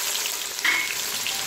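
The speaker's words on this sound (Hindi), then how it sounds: "उसी के साथ हम डाल देंगे प्याज और चला देंगे" Onions frying in hot olive oil with garam masala, a steady close sizzle with a brief stir scrape in the middle.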